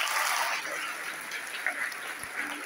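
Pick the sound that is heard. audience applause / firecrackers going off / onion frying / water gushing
audience applause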